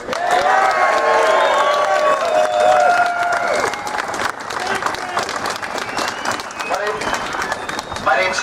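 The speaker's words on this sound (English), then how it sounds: "How about another round of applause for this patriot?" Crowd at a gun rally in Michigan breaking into applause and cheering, loud and dense at first, then thinning into scattered clapping as the ovation winds down.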